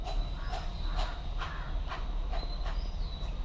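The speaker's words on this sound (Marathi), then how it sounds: "कावळ्यांना असं गोंगाट भरलेला केव्हापासून, ओरडत आहेत नुसते कावळे" Crows caw loudly and repeatedly in a steady run of calls, with several birds close by, over a constant low outdoor rumble from a nearby trees and yard setting.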